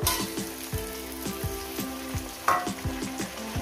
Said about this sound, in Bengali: টমেটোটাকে দিয়ে আমি আরও 4-5 মিনিট ভাজবো।